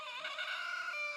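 A rooster crows in one sustained, strained, harmonic call that lasts about a second, moderately loud and fairly close, with no other sound.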